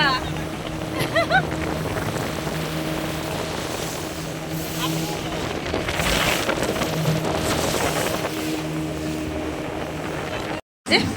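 Boat running on water at Johan Dream Valley Park, a continuous engine drone with wind and water wash across the whole stretch. It is close and steady, with no clear talk, and cuts out briefly near the end.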